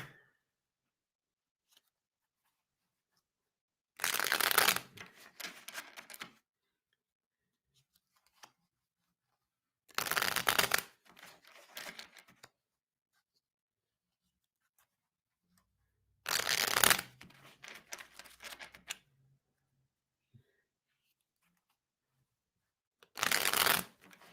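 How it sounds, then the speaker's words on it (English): Tarot cards are shuffled in four separate bursts, each a quick riffle followed by softer handling, with quiet pauses of several seconds between them. "let me shuffle for Gemini"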